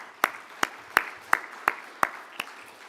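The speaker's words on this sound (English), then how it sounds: "Let's give a round of applause for." At a conference gathering, slow, evenly spaced hand claps ring out about once every third of a second. There are seven in all, fairly faint and set against a quiet room.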